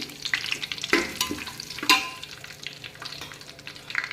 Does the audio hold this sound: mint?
yes